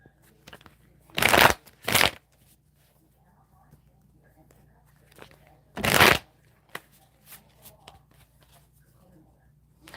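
Tarot cards are shuffled in three brisk riffling bursts, two close together and a third after a pause, with faint soft sounds between them in an otherwise quiet room.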